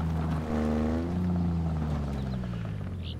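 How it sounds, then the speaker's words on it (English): A Warthog vehicle engine from the Halo Infinite game trailer rumbles in a low, steady drone whose pitch glides and shifts as it revs, loud and continuous with no talk over it. "Loving that engine purr."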